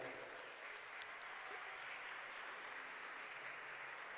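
Steady applause from an audience at a Morena party anniversary celebration in Mexico, a continuous even wash of clapping held at one level throughout, faint and distant-sounding.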